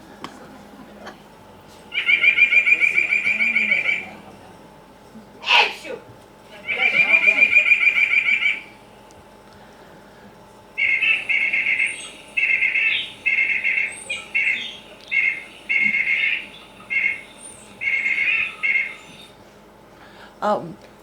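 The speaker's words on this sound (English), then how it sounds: "And the white-breasted nuthatch." Recorded calls of a white-breasted nuthatch play back in repeated nasal bursts: two sustained runs of rapid notes, then a longer string of short, evenly spaced call clusters, loud and clear over a quiet room.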